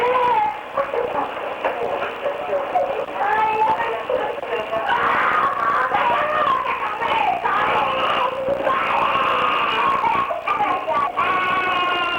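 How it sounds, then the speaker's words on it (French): Children scream, cry and wail almost without pause on a recorded answering machine message, loud, harsh and distorted through the phone line. "4 minutes de hurlements, de cris, de pleurs d'enfants."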